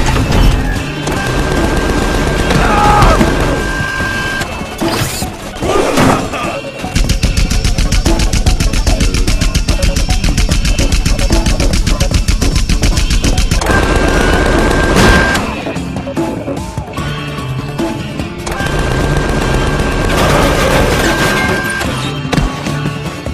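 Video game gunfire in Tales from the Borderlands: long, loud bursts of rapid automatic fire with short pauses between volleys, an engine-like rumble beneath, and brief game dialogue.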